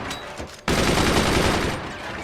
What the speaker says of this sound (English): Okay, create a machine gun group.